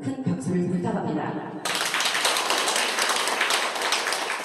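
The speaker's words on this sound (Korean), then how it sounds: "감사드리며 큰 박수를 부탁합니다" Applause breaks out at a Seoul master-artisans festival ceremony, starting as a few close, distinct claps over a voice, then swelling into dense, loud clapping from the whole hall.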